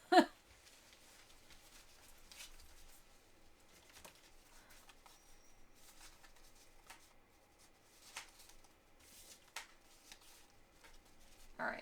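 Quiet, intermittent riffling and soft flicks of playing cards being shuffled by hand, with a couple of sharper snaps at the start and end.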